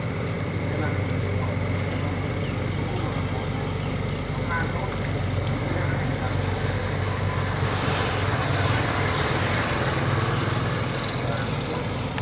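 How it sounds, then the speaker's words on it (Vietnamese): Large vehicle engines running at a busy ferry landing shortly before Tet, a steady low rumble of idling motors with mechanical hum throughout, close by, with someone talking over it. "Đây mình quay cái động cơ máy này cho mấy bạn xem."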